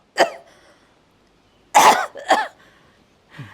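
Several harsh coughs close to the listener: a single cough, a pause, then two quick coughs in a row and a softer one at the end.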